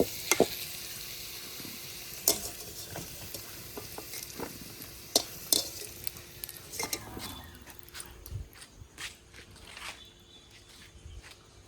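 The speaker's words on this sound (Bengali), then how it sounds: "পনির পটল আর আলু এভাবে কিন্তু ভালো করে ভেজে নিতে হবে" Paneer, potato and pointed gourd fry in oil in a pan with a steady sizzle, while a utensil stirs and scrapes and clinks against the metal, loud and close, easing off toward the end.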